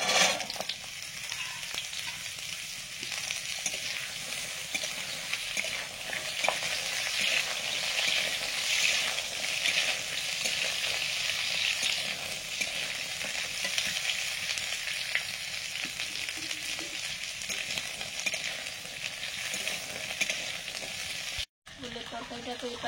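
Drumstick stalks sizzling steadily in hot oil in a pan with black cumin and dried red chili, a continuous close frying hiss with occasional stirring, no talk.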